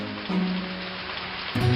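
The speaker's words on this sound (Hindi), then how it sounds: "पर बारिश लेकिन बिल्कुल भी नहीं रुक रही थी।" Rain falls in a dense, steady hiss, with a low tonal hum running underneath throughout.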